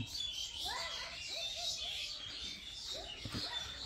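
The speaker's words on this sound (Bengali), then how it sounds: "পাখি" Small bird chirps and tweets come in scattered bursts over a steady hiss of background noise, with faint sounds of people nearby.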